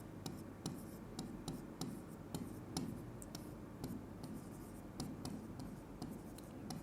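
Quiet scratching and tapping of a pen writing notes by hand on paper, with irregular sharp ticks as the pen strikes the page, close and faint, without speech.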